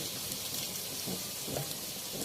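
Chopped onions frying in a pan while cooking a Bombay chicken biryani, giving off a steady, even sizzle and crackle with soft stirring scrapes, close and alone.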